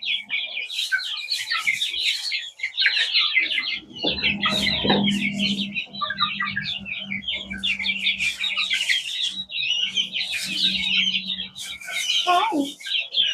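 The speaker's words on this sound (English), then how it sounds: "I thought you were a rooster, but I think you're just a very well developed hen." Chicks peep constantly and high-pitched, close by, while a young hen lets out a few low clucks in the middle and near the end of the span, with a person speaking briefly among them.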